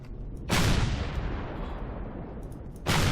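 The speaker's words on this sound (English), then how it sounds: "Be sure to dodge that incoming fire." Incoming enemy fire in the space-survival game Empyrion: two loud, close booming blasts, each followed by a long rumbling decay that fades between them, with no talking.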